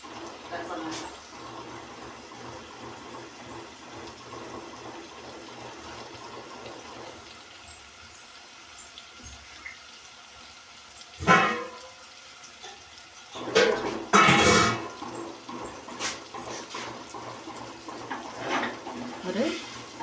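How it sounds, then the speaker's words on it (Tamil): About half a litre of water is poured into a pan of simmering kurma, heard as short gushing splashes in the second half over a quieter kitchen background. "இப்போ இதுக்கு தேவையான அளவு நம்ம தண்ணி சேர்க்க போகிறோம்."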